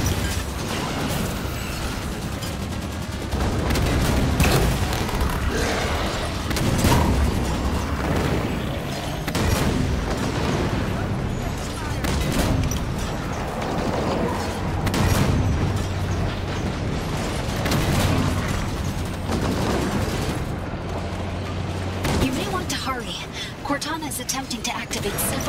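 Gunfire and explosions from a Halo 5 campaign battle, dense and continuous throughout with loud bursts, mechanical clatter and game effects, while voices talk over the action.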